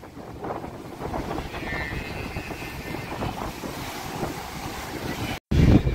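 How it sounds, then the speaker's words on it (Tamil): Sea waves crash onto the shore in a steady, rumbling wash, heavily buffeted by wind noise on the microphone. The sound cuts out for a split second near the end. "இந்த அலை வந்து எப்படி அடிக்குதுன்னு பாருங்க."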